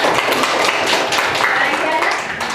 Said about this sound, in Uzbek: Qarsak chop qo'ying